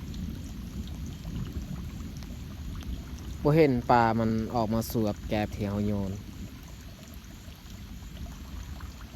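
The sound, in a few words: steady rain falling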